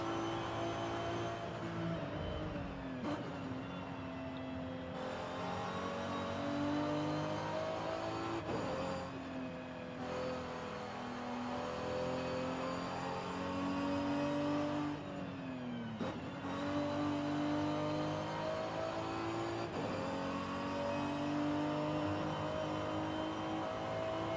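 Car engine in a video game driving through a tunnel, a sustained revving drone rising and falling with gear shifts and repeated dips as it accelerates, steady and loud throughout with no talking.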